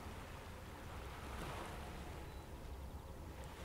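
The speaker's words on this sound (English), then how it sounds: "wave that comes forth to the beach and back into the ocean" Ocean waves wash onto a beach in a steady, faint broadband rush of surf, with a gentle swell in the middle and no voices.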